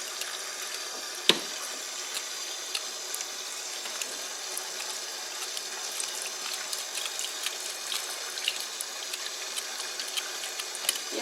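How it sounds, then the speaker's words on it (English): Water runs steadily from a kitchen tap while a whole raw chicken is washed in the sink, with a hiss and occasional light clicks and splashes. "You don't have to have the water on like me."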